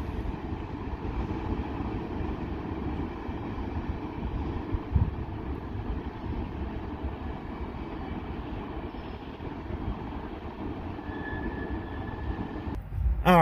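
Freight train C-28 rumbling past at close range, a steady low roar with rolling wheel and car noise throughout and a brief sharper clatter near the end.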